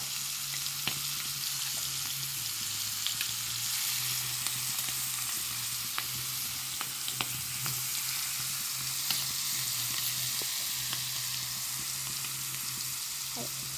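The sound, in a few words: food frying in a pan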